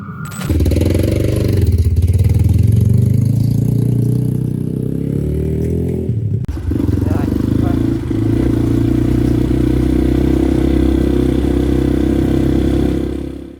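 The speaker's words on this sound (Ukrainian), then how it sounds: "Один циліндровий чотирьохтактний двигун повітряного охолодження 200 кубіків." A Geon X-Road 200 motorcycle with a single-cylinder, four-stroke, air-cooled 200 cc engine drones steadily and loudly while being ridden, with rushing noise and a brief dip midway before the engine note settles again.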